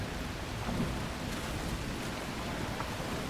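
Storm in the survival game The Last Caretaker: steady heavy rain hisses over a low continuous rumble of thunder, a dense unbroken wash with no voices.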